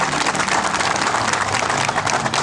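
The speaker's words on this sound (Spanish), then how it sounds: "un fuerte aplauso para el pueblo Natahuela" A crowd at an indigenous community gathering claps for the Natahuela people, sustained dense applause heard steadily throughout, with no talking.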